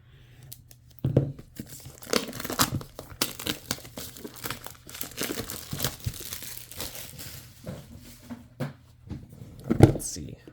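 Packaging of a Qiyi magnetic 9x9 puzzle cube being opened: repeated crinkling, tearing and rustling of cardboard and plastic in irregular bursts, close up, with a person talking throughout.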